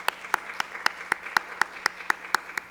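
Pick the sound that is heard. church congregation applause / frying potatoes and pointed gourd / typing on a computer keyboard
church congregation applause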